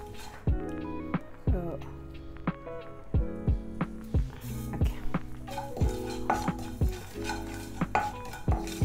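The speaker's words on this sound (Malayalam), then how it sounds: "ഒരു ടേബിൾ സ്പൂണോളം ജീരകം ഒന്ന് ഡ്രൈ റോസ്റ്റ് ചെയ്യണം കേട്ടോ" Cumin seeds dry roasting in a non-stick pan, with a series of sharp spoon-on-pan scrapes and clinks in an uneven rhythm over a faint sizzle, close by.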